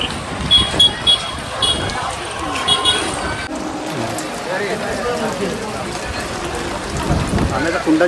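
Steady rain hisses and patters on surfaces nearby while people talk over it.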